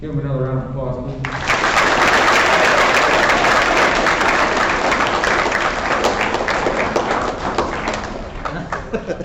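At a school awards ceremony, a voice speaks briefly before the audience breaks into loud, sustained applause for award winners, with dense clapping and occasional thumps that fade slightly near the end.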